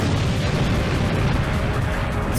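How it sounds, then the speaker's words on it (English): A stock explosion effect in a Sonic fan video game, a loud dense rumbling burst that fills the whole stretch with continuous crackling noise and no voices. "Stock explosion sound effect I stole right from the internet."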